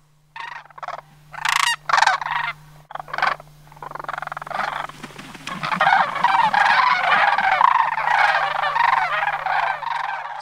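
A goose honking among sandhill cranes in Homer, Alaska: a series of loud, separate calls at first, then a dense, continuous chorus of overlapping bird calls.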